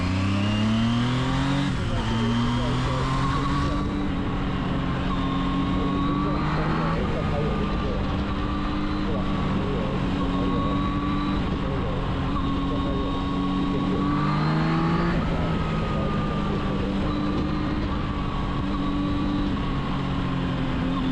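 Zontes 703F motorcycle engine revving hard and climbing through the rpm range in several rising sweeps that drop back between pulls, loud and close throughout, with someone talking over parts of it.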